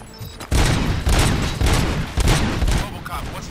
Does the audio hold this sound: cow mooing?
no